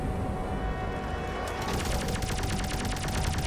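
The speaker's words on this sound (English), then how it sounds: "let's shoot some bullets" Rapid automatic gunfire from the Rodina space-combat game, a dense continuous burst of shots that starts partway through and keeps going loud to the end over a steady engine hum.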